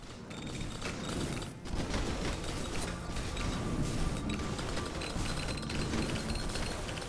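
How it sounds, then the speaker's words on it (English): Nonstop clusters of explosions from the video game Halls of Torment form a dense, crackling barrage. After a brief dip early on, they hold at a steady, busy intensity. "These explosions are insane."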